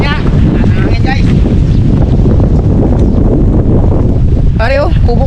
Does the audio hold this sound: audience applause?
no